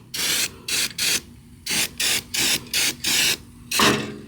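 Close, loud bursts from a spray can of Rust-Oleum flat black paint, about nine short hissing sprays in an uneven rhythm with brief gaps, coating parts on a Chevy S10 during an LS swap.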